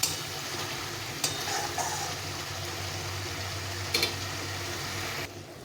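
Garlic sautés in hot oil with spices in a pan: a steady close sizzle with a few scraping stirs of a spoon, no talk.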